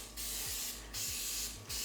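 Coconut oil cooking spray hisses from a can into a muffin tin in two short, loud bursts, close by, with brief pauses between them.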